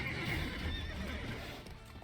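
A horse in the video game The Witcher 3: Wild Hunt, neighing and whinnying with clip-clop hooves, heard over a dense game background with no talk.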